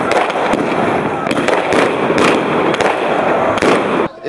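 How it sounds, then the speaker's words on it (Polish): Fireworks bursting at a New Year 2015 celebration in Brzozów, Poland, a dense continuous crackle of loud explosions and popping with sharper bangs recurring every second or so, with voices faintly under the noise. "tak jak widzimy fajerwerki"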